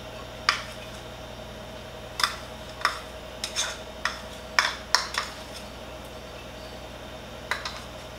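Butter being stirred into fettuccine Alfredo sauce in a pan, with a spoon clinking sharply against the metal several times at irregular intervals over a soft, low background hum.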